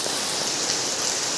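Steady rain falling, a dense even hiss that holds at the same level without a break, close and fairly loud, with no voices over it.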